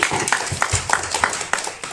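Audience clapping at a temple gathering in a Badami-area village, a dense patter of hand claps filling the clip with irregular sharper bursts, fairly close and steady without speech over it.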